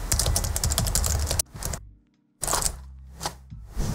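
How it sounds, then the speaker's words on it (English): Rapid keyboard typing up close, a burst of clicks, a second of silence, then more scattered keystrokes with short gaps. "this is me typing and I paused it"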